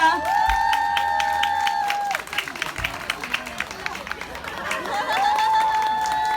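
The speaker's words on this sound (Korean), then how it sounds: "큰 박수 부탁드립니다." Steady applause and crowd noise after a jumping fitness trampoline performance at a Gangbuk Beon-dong community festival, with a bright sustained tone fading in and out over the clapping, reverberant like a hall.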